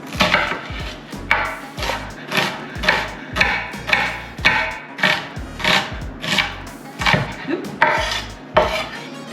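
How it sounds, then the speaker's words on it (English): A knife roughly chopping half an onion on a cutting board in a home kitchen, giving a brisk, regular series of close, crisp chops that continue steadily without any talking. "we're gonna roughly chop up half of an onion"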